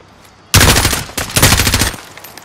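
Bursts of rapid automatic gunfire in a Modern Warfare campaign firefight, loud and close. Two sustained volleys follow a quiet start, split by a brief pause.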